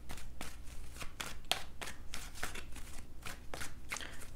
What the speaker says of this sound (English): A few more shuffles and let's see what's happening.